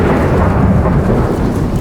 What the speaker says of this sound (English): Thunder crashed, shaking the very ground beneath their feet.